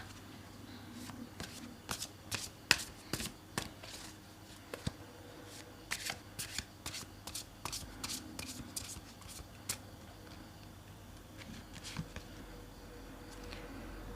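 Tarot cards are shuffled by hand in a series of quick riffling bursts and soft card slaps, close and fairly quiet, repeating irregularly with brief pauses.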